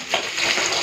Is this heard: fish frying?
yes